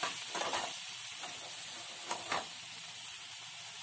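Tomato dropped into a hot pan with chile sizzles and fries steadily, a constant bright hiss with a few soft stirring scrapes near the start and middle.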